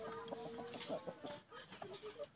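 A Balitbang chicken, a rooster about three years old, clucks in short, uneven bursts, close by, with a few higher squawky notes mixed in over faint background noise.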